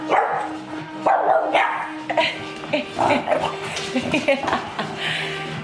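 A dog barks repeatedly in short bursts, loud and close, with a person talking at times over the barking.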